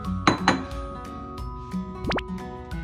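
A few light clinks of a heat-resistant dish being set down on a hard kitchen counter, followed by a quick ringing scrape, in a quiet room.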